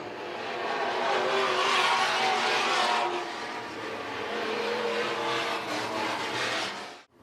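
Stock cars race around the Crawford County Speedway track, a loud continuous roar of engines swelling and fading as the pack passes, with faint tire squeal.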